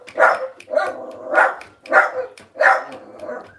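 A dog barks four times in a steady sequence, sharp yips at close range and fairly loud, with no talking over them.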